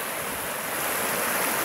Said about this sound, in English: And lots of rapids in this Tinker's Creek.